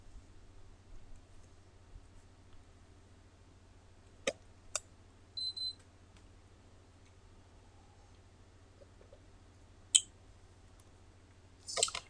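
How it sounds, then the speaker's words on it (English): A computer mouse clicks in a quiet room: a few sharp, isolated clicks spaced apart, including a quick pair, then a small cluster near the end, over a low steady hum. "You just double click this one."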